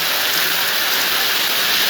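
Heavy evening rain pours down near Punalur, a loud continuous hiss of downpour striking surfaces close by, steady throughout with nobody talking.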